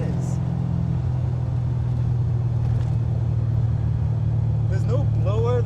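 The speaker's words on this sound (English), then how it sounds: "This is just a single carbureted 383 stroker with a little bit of compression and a good healthy camshaft" A carbureted 383 stroker V8 in a 1980 Chevy Camaro Z28 restomod with a gear drive rumbles loudly and steadily close by. A voice is heard faintly over the low engine drone near the end.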